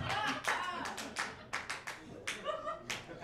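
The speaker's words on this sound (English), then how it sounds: "It's funny that people clap." Scattered clapping from a small audience at a dive bar comedy show comes in short uneven bursts, fairly close, between laughter and a comedian's voice.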